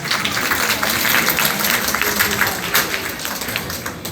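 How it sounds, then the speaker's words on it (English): Audience applause rings out at a business school event, a broad, sustained wash of many hands clapping that fills the hall and eases off slightly toward the end. "With thunderous applause, let's kickstart the proceedings for the day."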